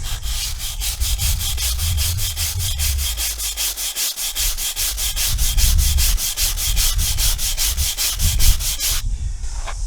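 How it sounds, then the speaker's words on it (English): Abrasive sheet from a drum sander being scrubbed clean, a steady rapid back-and-forth rubbing rasp that continues for several seconds, then cuts off near the end with no voices. "That's going to involve a fair bit more scrubbing"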